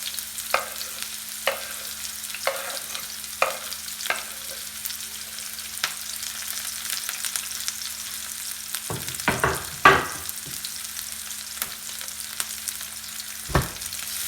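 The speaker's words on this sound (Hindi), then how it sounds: "ये प्याज अब हम इसमें डाल रहे हैं। ऑयल हमने रख दिया है, ये गर्म हो गया है।" Onions dropped into hot oil for a chicken biryani sizzle in a steady, hissing fry, broken by occasional sharp clicks and scrapes of stirring.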